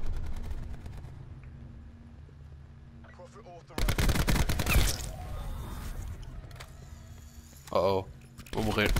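ICR rifle fire in a first-person shooter video game, with loud bursts of rapid automatic shots in the middle and near the end and quieter game sounds between them.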